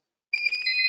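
A pop-up alarm tone from Nx access control software sounds alone, a steady electronic beeping chime with two bright tones starting abruptly after a brief silence.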